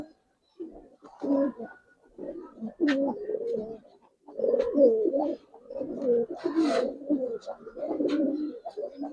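Giribaz pigeons coo in soft, throaty bursts, several close calls repeating in uneven phrases with short pauses between, at a moderate level.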